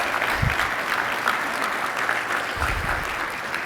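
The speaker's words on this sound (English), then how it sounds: "Can we give Jamie a huge round of applause?" Conference audience applauding for Jamie, a steady wash of clapping with a couple of brief low thumps or cheers mixed in, moderately loud throughout.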